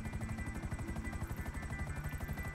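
Helicopter with a hook in GTA Online on PS4, a loud, steady rotor thump beating rapidly and evenly over a constant engine whine throughout, with no voices.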